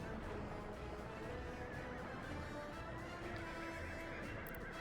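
A faint horse whinny rises from a steady wash of dense background noise, quiet and distant, in the video game Workers & Resources: Soviet Republic.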